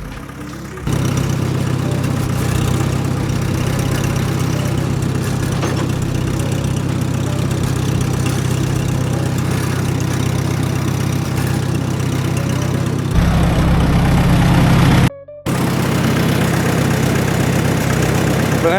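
A tractor engine idling at a steady low rumble, loud and close, holding evenly for most of the stretch with a brief heavier surge and a momentary dropout near the end.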